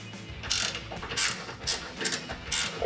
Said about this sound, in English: we'll take our 21mm ratcheting wrench and 6mm Allen socket to tighten this down